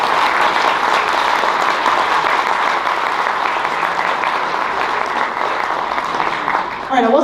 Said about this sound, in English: Give yourself a round of applause for being so cool.